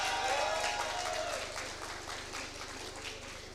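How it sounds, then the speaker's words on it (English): Applause from the audience at a college commencement ceremony, a steady broadband wash of clapping that starts loud and slowly fades over a few seconds, with faint voices mixed underneath. "A big round of applause."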